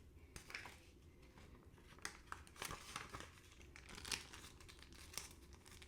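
Vietnamese rice paper (bánh tráng) crinkling and tearing as it is handled near water, soft close rustles and brief ripping sounds at irregular moments, quiet and without talking.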